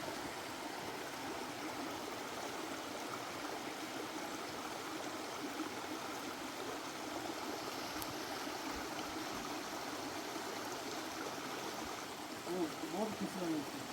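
Water in an Australian creek flows with a steady, faint rushing hiss that stays even throughout, with faint voices near the end.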